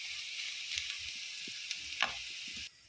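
Butter sizzles steadily in a pan for garlic shrimp, a constant faint hiss with a few soft clicks and clatters of a utensil, ending abruptly near the close.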